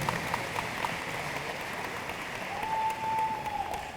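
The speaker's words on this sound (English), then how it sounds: "Now you can applaud." Audience at a university freshman welcome event clapping together, a dense, steady wash of applause filling the hall without letup from start to finish.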